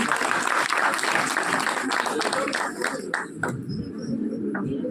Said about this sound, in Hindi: जोरदार तालियां दिव्या के लिए।